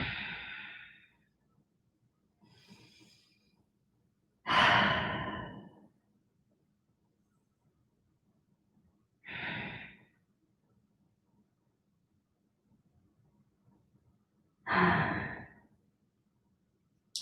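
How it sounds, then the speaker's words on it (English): Deep, long, smooth breaths are taken while resting in yoga child's pose: about five soft, close breath sounds, each lasting around a second, separated by long quiet gaps in a very still room. "Take 3 deep, long, smooth breaths, or try to."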